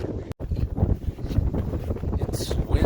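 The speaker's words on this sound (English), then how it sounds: "It's windy. We're crossing the snow." Strong gusts buffet the microphone while hikers cross snow on a mountain trail up San Gorgonio, a rough low roar with a brief dropout near the start and a faint voice in the background.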